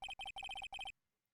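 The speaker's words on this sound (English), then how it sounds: "I heard the phone ring just now." An electronic phone ringtone from the video game Phoenix Wright: Ace Attorney plays clear and loud in four rapid bursts of chirping rings, then cuts off into silence.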